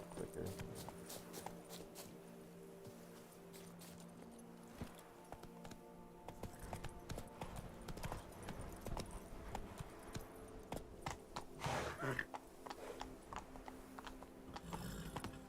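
Hoofbeats of Roach, the horse in The Witcher 3: Blood and Wine, clip-clopping at a steady pace in quiet game surroundings, with sparse speech and a few sharper knocks near the end.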